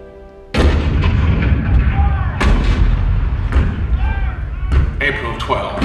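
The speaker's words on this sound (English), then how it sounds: "The cannon spoke for war, bitter, violent, and devastating." Cannon fire at Fort Sumter, a show effect at a Liberty Square attraction: heavy booming blasts repeat through a rumbling battle soundscape with several sharp reports, loud and close, and no talk over them.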